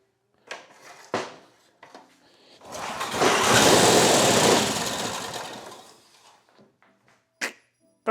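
An 8 HP Briggs and Stratton small engine being revived bursts into a rough, loud run for about three seconds, then sputters and dies, with short clicks and knocks before and after.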